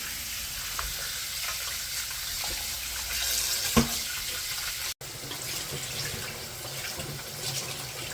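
Cut pieces of beef trotter being rinsed under a running kitchen tap, a steady close splashing of water into a sink with occasional clatters, no voices.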